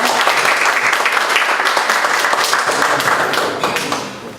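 A conference audience gives a keynote speaker a dense round of applause, many hands clapping together in a steady, full wash that fades away toward the end.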